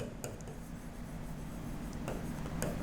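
A pen scratching steadily across a writing surface while a solution step for a game theory dominance problem is written out. It sounds like a continuous close rasp with a few sharper strokes, with no talk.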